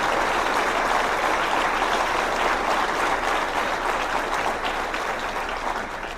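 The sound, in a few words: audience applause for the sheriff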